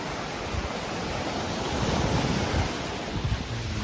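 Waves washing over rocks beneath a small bridge at Nui Beach, Phuket, a continuous loud, rushing surge of water with wind buffeting the microphone, swelling slightly midway.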